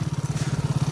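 A village motorbike engine runs just after starting, a close, rapid and evenly pulsing putter that holds steady through the brief moment.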